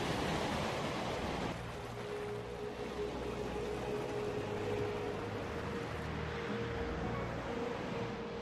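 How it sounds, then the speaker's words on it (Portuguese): Heavy surf pounds the sand on a wild, storm-battered stretch of southern Brazilian coast, a loud, continuous roar of breaking waves with no voices. "As ondas batem forte na areia."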